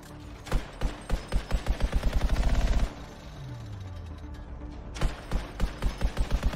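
Rapid gunfire in the video game Anthem, bursts of sharp evenly spaced shots, a long run that speeds into a fast rattle, then a pause with a falling whine before another burst of shots.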